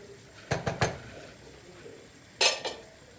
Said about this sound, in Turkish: Cevizi de bir karıştıralım.